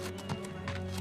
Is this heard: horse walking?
yes